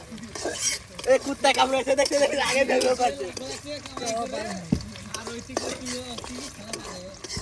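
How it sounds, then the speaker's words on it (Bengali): Onion, chili and garlic fry in a pan for khichuri, with cinnamon and garam masala added, at an outdoor Bangladeshi cooking spot. A steady sizzle carries stirring scrapes and clinks, and people talk over it for most of the time. "এখন কিন্তু একদম পেঁয়াজ মরিচ রসুন সব কিন্তু একদম ভেজে ভেজে নেওয়া হচ্ছে"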